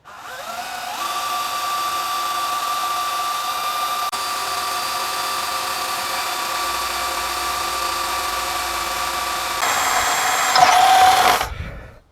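A power drill bores a hole into a car's oil pan at a stuck, stripped drain bolt, a steady high whine running close and loud for about ten seconds, rising briefly in strain near the end before stopping.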